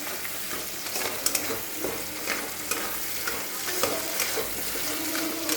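Whole spices for a prawn malai curry frying in a pan make a continuous hiss with repeated scraping strokes of a stirring spoon, close and fairly loud, with no voices.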